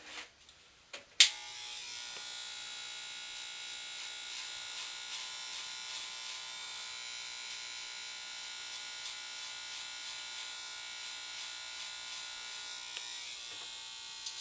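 Electric hair clippers start with a click and then buzz steadily and close while cutting a taper haircut, a continuous high whine that runs alone for over ten seconds.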